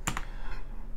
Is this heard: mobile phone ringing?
no